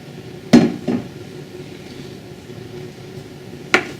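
A lid is lifted off a Romertopf clay baker to uncover rising bread dough: two close, hard ceramic clunks in quick succession, then quiet, then a third sharp knock.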